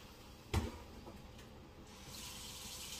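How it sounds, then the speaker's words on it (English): Kitchen sink tap turned on, with a soft clunk of the handle, then a quiet steady run of water that swells louder near the end, heard alone at low level. "I turn the water on"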